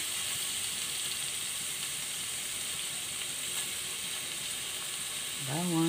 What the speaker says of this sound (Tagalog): Pinainit ko na kasi itong kawali. Nilunod ko na ang sibuyas.